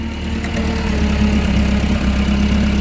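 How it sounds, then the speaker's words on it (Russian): A Nissan FG20 two-tonne petrol forklift engine idles steadily and evenly, a loud, close, continuous low rumble with no misfire, heard alone without talk. "Двигатель работает ровно. Не троит, не пыхтит, не дымит."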